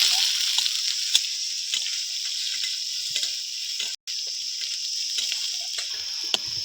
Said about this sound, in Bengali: শুকনো লঙ্কা, হালকা করে ভেজে নেব